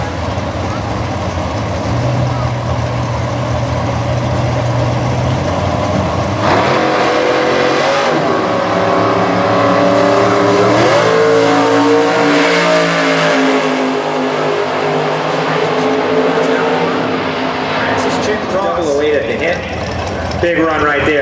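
Two Camaros, a 1967 and a 1968 Camaro Roadster, drag racing in the Super Gas class: loud, near V8 engines rev and roar off the line, then rise in pitch as they accelerate, with an announcer's voice over the noise.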